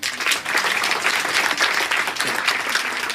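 A school audience claps during a principal's speech, a steady wash of many hands applauding together throughout, fairly loud and continuous with no voices standing out.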